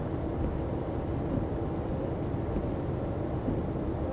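Steady heavy rain falls in Euro Truck Simulator 2 on an Argentine route, a constant broadband hiss with low rumbling and no break across the few seconds, with no voices.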